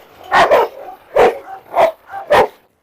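Two rottweilers face off, loud close barks coming in short bursts of one or two, about four bursts over a few seconds with no talk.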